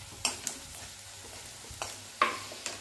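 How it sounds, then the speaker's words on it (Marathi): Crushed green chili thecha and onion fry in a pan with a soft, low sizzle, punctuated by a few sharp clinks and scrapes of a spoon stirring against the pan. "आता ठेचा छान परतून घेऊया कांद्यासोबत"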